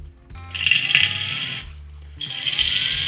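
A small drill bit bores out a rivet on a roughly 60-year-old vintage Weber kettle grill, a steady whining grind in two close bursts with a short pause between.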